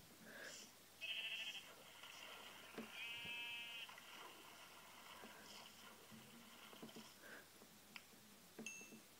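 Sheep in a survival video game bleat in short wavering calls, two clear bleats standing out over a quiet game background with no talking.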